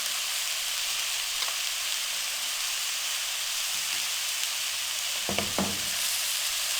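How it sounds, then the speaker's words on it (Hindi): Kachori stuffing roasting in a kadhai over a low flame, a steady soft sizzle and hiss throughout with a few scraping stirs near the end, no talking. "बिल्कुल लो फ्लेम पे इनको भून लेंगे"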